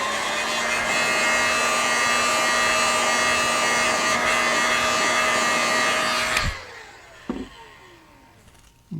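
A heat gun whirs in a steady, loud electric blow while setting paint on a golden shiner pattern fishing lure, then cuts off abruptly, followed by a couple of small handling clicks in near quiet.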